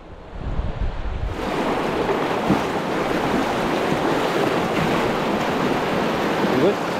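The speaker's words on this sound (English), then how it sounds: "There's so much water coming down" Heavy rushing river water during a remote brown trout fishing trip, a dense, steady roar of high-volume flow that fills the clip close to the microphone, with some wind buffeting at the start.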